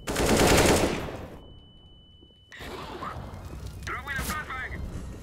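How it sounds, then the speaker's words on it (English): Video game gunfire opens with a loud, rapid burst of automatic shots that fades into near silence. Softer in-game sounds and movement return for the remaining seconds. "Who's shooting?"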